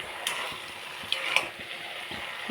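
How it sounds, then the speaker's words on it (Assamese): Jackfruit curry with small shrimp fries softly in a pan, a low steady sizzle broken by a few light scraping and tapping stirs, close and without speech. "তাৰপিছত মানে অকণমান ভাজি লওঁ আকৌ"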